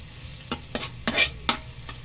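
Garlic frying in oil, sizzling steadily with several sharp stirring scrapes spaced about half a second apart, close and moderately loud, with no talking.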